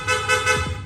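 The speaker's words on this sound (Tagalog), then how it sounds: "loud horn" A loud aftermarket horn on a Sniper 155 motorcycle honks in three quick, close blasts, bright and buzzy, with no talk.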